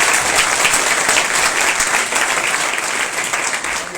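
A church congregation applauds loudly and steadily, a dense wash of clapping that fills the whole stretch and tapers only slightly at the end.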